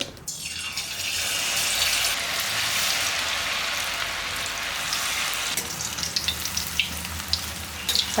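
Cauliflower pieces for gobi manchurian deep-frying in hot oil in a kuzhi paniyaram pan, a loud dense crackling sizzle, close and continuous, easing slightly toward the end with a few sharper pops, no talk.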